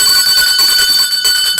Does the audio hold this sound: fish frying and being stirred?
no